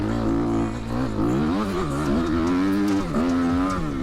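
A motorcycle fitted with a new aftermarket exhaust rumbles loudly while riding, the engine lugging in too high a gear and its pitch wavering slightly as it pulls without strain.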